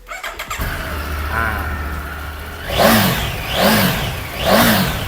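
A 2020 Triumph Tiger 900 Rally motorcycle engine cranks and starts, idles briefly, then revs up three times in a steady rhythm, close and loud.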